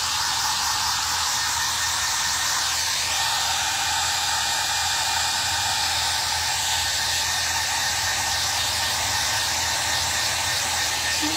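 A hair dryer blows steadily to dry wood stain on a bedside table being given a faux timber finish, a loud, continuous whooshing drone held close throughout with no talking.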